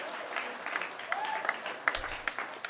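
Audience applause for event volunteers at a Troma dance, a moderate, somewhat distant spread of clapping from a crowd, with a few sharper individual claps standing out.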